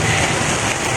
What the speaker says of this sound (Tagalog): It's raining now in Antipolo.